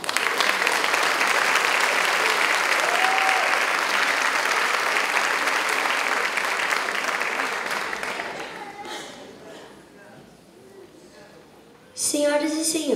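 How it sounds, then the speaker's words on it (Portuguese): Loud, sustained audience applause at a choral concert performance, dense clapping that holds steady for about ten seconds, then fades before a voice begins speaking near the end. "Palmas para ele."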